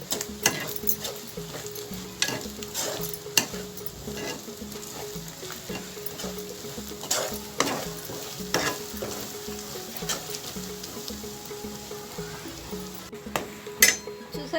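Prawn pickle frying and sizzling in a pan, a steady crackling hiss with repeated scrapes and clinks of a spoon stirring against the metal, close up and continuous throughout.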